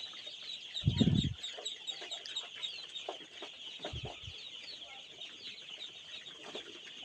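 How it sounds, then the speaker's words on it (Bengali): Four-day-old ducklings dash about on a small farm, with a thin chorus of high peeps running throughout, a brief louder flutter or thump near the start and light scuffles later. "আমার হাঁসের বাচ্চাগুলো দেখেন পাগলামি শুরু করে দিয়েছে।"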